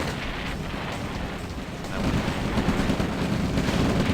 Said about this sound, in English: Look, he's shooting the medium tank.